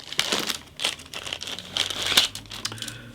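A plastic Ziploc bag crinkles and rustles up close, opened during the unboxing of a 1/35 scale Bedford MWD truck model kit, in a quick run of sharp crackling bursts with no talking.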